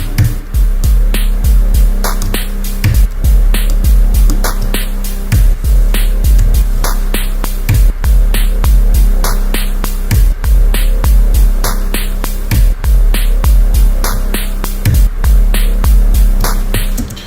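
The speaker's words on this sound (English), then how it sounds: "Big reverb, some delay too." Ambient electronica synths drenched in big reverb and delay pulse in a steady repeating pattern, with throbbing low notes and airy echoing high tones throughout, loud and without voices.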